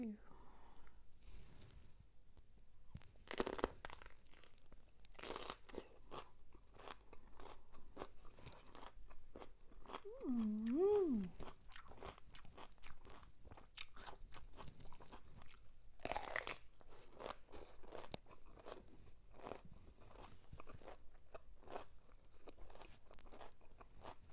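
Crisp crunching and chewing of cucumber eaten with mayonnaise, repeated close-up bites and mouth sounds through a quiet stretch, with a brief voice in the middle.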